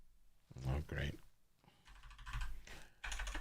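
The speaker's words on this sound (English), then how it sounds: "Typing it again." Quick bursts of keystrokes on a computer keyboard, clattering in short runs with pauses between them, mixed with a person talking quietly nearby.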